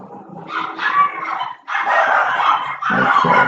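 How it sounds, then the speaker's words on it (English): Several dogs barking and yipping in a frantic fit indoors, loud and near, with overlapping excited bursts in quick succession and no one talking over them. "That's my dogs are having a fit."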